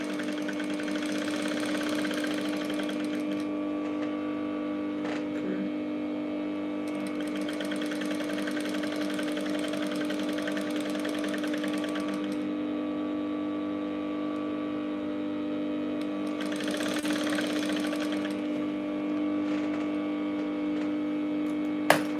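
A sewing machine runs steadily while stitching pencil balloon sleeves, with a constant motor hum and rapid needle clatter that swells in three longer bursts and ends with a short click.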